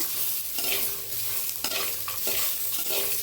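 Four tomatoes frying in a pan for tomato coconut chutney, stirred with steady scraping strokes over a constant bright sizzle, close up and alone without talk.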